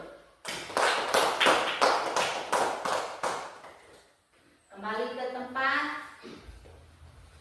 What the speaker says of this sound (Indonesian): Tepuk tangan untuk kelompok 1 dulu.